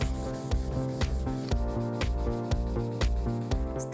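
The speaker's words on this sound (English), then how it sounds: "It's out with the sandpaper and the elbow grease." Sandpaper is worked by hand over orange-tinged veneer on a vintage wooden cabinet, making steady rhythmic rubbing strokes about twice a second beneath a tonal backing.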